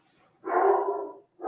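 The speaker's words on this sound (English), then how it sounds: "Sorry if you can hear Nelson barking in the background." Nelson the dog barks in the background, one drawn-out bark followed by the start of another, moderately loud and clear with no talk over it.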